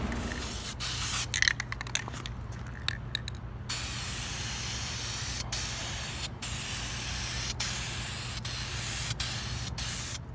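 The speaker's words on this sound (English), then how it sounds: "Just cleaned up this header, about to spray it" Bursts of hissing aerosol spray paint on a cleaned engine header from a 1967 Dodge Coronet, short stuttering puffs at first and then a long continuous spray, broken by brief pauses, close and loud.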